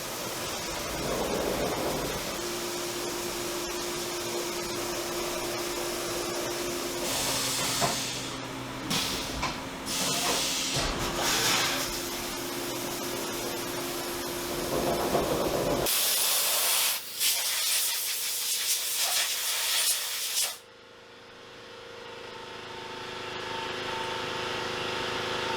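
A CNC machine runs a center drill through steel for a custom fixed-blade knife while coolant sprays, a loud steady hissing spray with a faint machine whine that cuts out abruptly toward the end.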